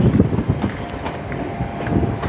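ScotRail Class 320 and 318 electric units roll into Glasgow Central station, a low rumbling mix of wheel noise and station ambience at moderate loudness, with light wind buffeting and no talking.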